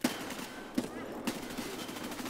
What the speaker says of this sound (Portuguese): ele deitou no chão e me atirou mesmo